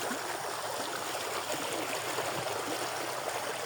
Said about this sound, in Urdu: یہ پانی کی آواز آپ فیل کریں